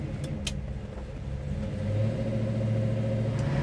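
A 1968 Chevrolet Chevelle SS V8 rumbles steadily while driving, its low engine drone swelling slightly as it picks up speed, heard up close from inside the car with no talking.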